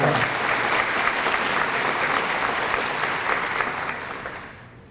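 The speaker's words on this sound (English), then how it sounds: "So let's applaud that" Dense, steady applause from a gala audience at a college hall of fame event fills the space close up for several seconds, then tapers off toward the end.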